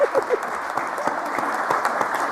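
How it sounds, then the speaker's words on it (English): An audience at a political speech applauds steadily, a broad, continuous wash of many hands clapping at moderate distance, with a brief voice at the very start. "So that's where we all applaud."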